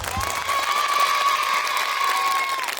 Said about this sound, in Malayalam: അവർക്ക് നല്ലൊരു കൈയടി കൊടുക്കാവോ?